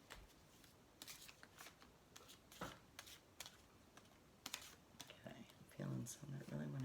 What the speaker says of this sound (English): And I'm going to shuffle this way.